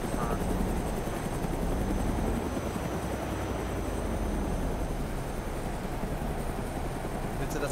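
In the video game DayZ, a helicopter in flight gives off a steady, unbroken rotor-and-engine drone that holds at an even loudness throughout, with no voices over it.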